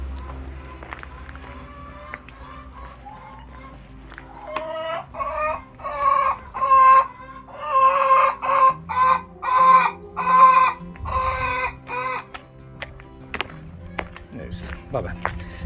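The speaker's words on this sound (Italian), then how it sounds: "Dove sei, gallo?" A rooster clucks in a rhythmic series of loud calls that rise into a crowing burst, heard outdoors beside a cycle path on the Camino route from Santiago de Compostela to Negreira, with someone speaking nearby before and after.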